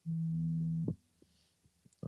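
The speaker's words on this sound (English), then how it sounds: "Now phone ringing." A phone rings for an incoming Messenger call, heard as one steady electronic tone lasting under a second, then cut off and followed by faint clicks.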